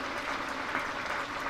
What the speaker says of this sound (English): To lovely applause around Trent Bridge.